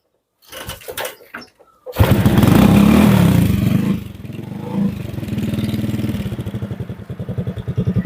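A motorcycle engine that had been puffing white smoke starts after a few faint clatters, then runs loudly up close, revving briefly before settling into a steady, pulsing idle.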